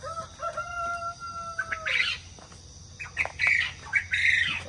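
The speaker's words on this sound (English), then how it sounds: "this is the sounds of the morning here on the farm. Of the quail and chickens." Quail and chickens calling on a farm in the morning: chickens squawking and clucking alongside higher chirping quail calls, moderately close, with no talking.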